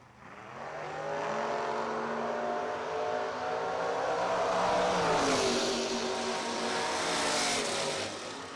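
A Camaro race car at a footbrake drag racing event revs and accelerates hard, its engine note climbing in long rising sweeps for several seconds before dropping briefly and roaring on, loud but slightly distant, with no talking.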